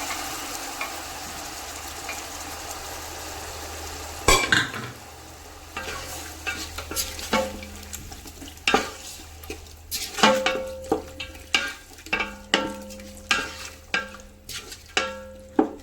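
Cooked beef and rice simmering in a pot, a bubbling hiss at first, then a loud clatter and a run of rhythmic scraping stirs against the pot that keep growing more regular and pronounced.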